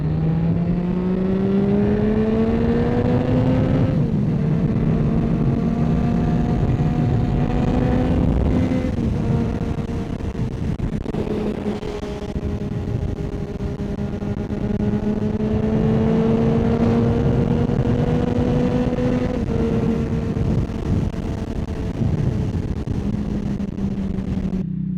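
A motorcycle on a summer ride, its engine close and steady, rising through gears in long revving sweeps that drop back and climb again, with wind noise and no speech.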